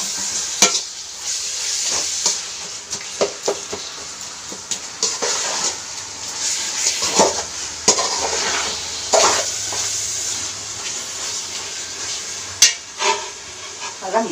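Mutton roasting in a covered pan gives a steady sizzle with scraping stirs and occasional metallic knocks of a utensil against the pan, close and fairly loud throughout.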